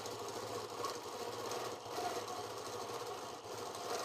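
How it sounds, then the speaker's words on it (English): A sewing machine running steadily during free-motion micro-stipple quilting on a quilt block, a continuous close mechanical hum and rapid stitching whir with small dips in speed, no voices. "So because we're in the center, let's do that micro quilting."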